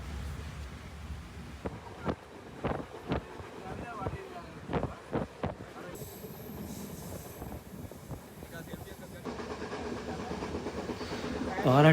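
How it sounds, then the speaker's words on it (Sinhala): Yal Devi passenger train running, a continuous rumble with wind buffeting and a series of sharp rhythmic clacks from the wheels over rail joints, heard from inside a carriage. "අපි නැග්ගේ යාල්දේවි ට්‍රේන් එකේ"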